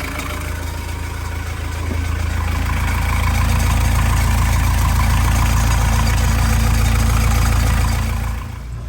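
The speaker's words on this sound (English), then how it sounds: "All right, so the engine started." Marine boat engine just started after a sea water strainer and exhaust repair, idling with a loud, steady low rumble that swells slightly midway and drops off near the end, no voices.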